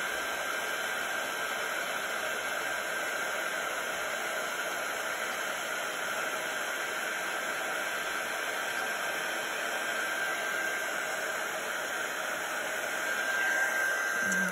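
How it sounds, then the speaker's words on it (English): A Wow embossing heat gun blowing hot air over embossing powder on a stamped image gives a steady, unbroken hissing whoosh of fan noise with a faint whine, close and constant throughout, with no talking. "I'm just using my Wow embossing heat gun"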